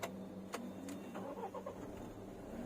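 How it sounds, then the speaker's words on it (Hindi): A Mahindra Thar diesel engine cranks briefly and catches, settling into a quiet, muffled idle heard from inside an insulated cabin, soft and low in level with no talking. "अभी मैं गाड़ी को स्टार्ट करके दिखाऊंगा"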